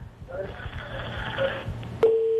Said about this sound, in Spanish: se nos cayó la comunicación